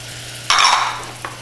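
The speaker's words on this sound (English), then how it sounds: "Using a wooden spoon and medium heat, stir it, and you're going to cook it." A wooden spoon stirs flour into melted butter in a pan over medium heat to make a roux. After a faint hum comes a brief burst of scraping sizzle, then a single light clink.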